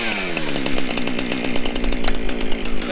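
A chainsaw with an 18 inch bar cuts firewood in a rack. The engine snarls loudly and close, its pitch wavering and surging as the chain bites into the wood.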